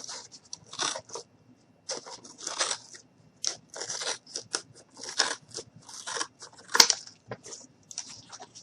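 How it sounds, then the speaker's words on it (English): Scissors snip repeatedly through cardboard as the edges of a box are trimmed, a string of crisp, close crunching cuts coming in irregular bursts with short pauses between them. "I'm just going to grab my scissors and I'm just going to go ahead and cut."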